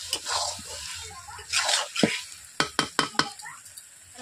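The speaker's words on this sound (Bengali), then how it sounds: "মাংস থেকে তেল ছিটাচ্ছে।" Chicken korma cooking in a Bengali village-style pan, oil spattering off the browned meat in loud, close sizzling bursts and sharp pops, several quick crackles clustered toward the end.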